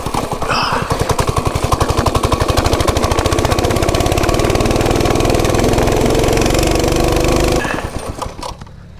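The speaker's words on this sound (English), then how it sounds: "Ooh, oh, the bumps, that's a lot smoother on a dirt bike." Dirt bike engine revving loudly on a Blue Ridge trail, a close, rapid pulsing rattle that holds steady, then cuts out near the end.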